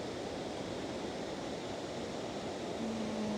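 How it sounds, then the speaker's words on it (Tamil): A waterfall in Canada gives a steady, broadband rushing roar that holds constant throughout, with no talking. "இந்த அருவி விழுது, இதில் இருந்து கொஞ்சமாக வாட்டர்ஃபால் தெரியுது"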